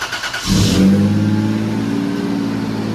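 A Toyota 4Runner engine cranks briefly after a valve cover gasket replacement, then catches and roars to life, revving up loudly before settling into a steady, rumbling idle.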